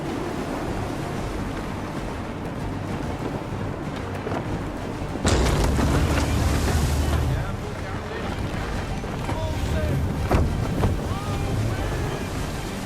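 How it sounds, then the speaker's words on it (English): Sailing ship at sea in Assassin's Creed 3, with constant rushing water, waves and wind battering the hull, a louder surge of spray midway, and voices talking over the steady ocean roar. "How is it you came to captain a ship, given the way you sail?"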